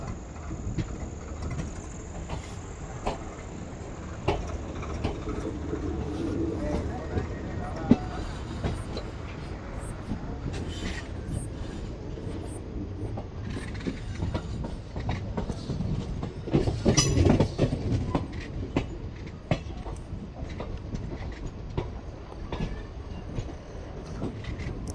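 A Jalna–Parbhani festival special express train runs steadily just after leaving Ranjani station in India, with continuous rumbling rail noise, clickety-clack wheel beats and occasional squeals heard from on board at moderate level.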